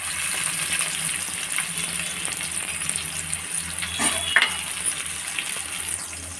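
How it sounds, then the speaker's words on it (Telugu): Onions fry in oil in a pan for a beetroot and carrot dish, with a steady, close sizzle and crackle that runs throughout and occasional stirring scrapes. "ఇలా ఫ్రై వచ్చేదాకా, ఒక బ్రౌన్ కలర్ వచ్చేదాకా ఇలా ఫ్రై చేసుకోవాలి."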